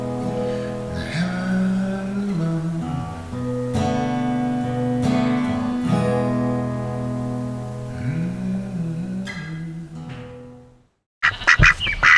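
Ducks quack loudly and steadily in a nasal, honking chorus for several seconds, then stop, followed by a few brief noisy bursts.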